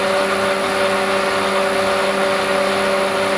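Lathe motor driven by a VFD at just over 33 Hz, a loud steady electric whine with fixed tonal hum, unbroken and close, with no talk.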